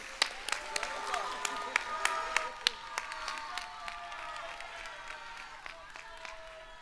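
An audience at an induction ceremony gives a modest round of applause, with scattered distinct claps over a soft crowd wash and a voice speaking through it.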